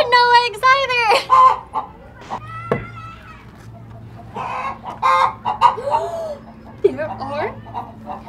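Chickens cluck and call in a coop, with a loud rooster-like call near the start and more scattered clucks later, while people talk nearby.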